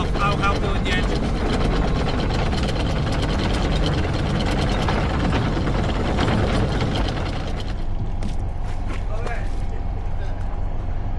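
Steady low rumble of a Beneteau 44 sailing yacht's engine idling nearby, with voices talking over it and the noise easing slightly toward the end.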